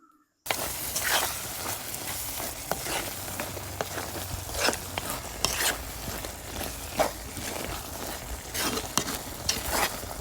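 Fish intestines sautéing in a pan, a low continuous sizzle with intermittent scraping stir strokes, moderately quiet and close, after a brief silent start.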